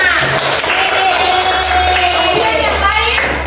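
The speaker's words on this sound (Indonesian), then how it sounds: "tepuk tangan" Students in a classroom clap in a steady, fairly loud round of applause during a coding and artificial intelligence lesson, with voices chattering over the clapping.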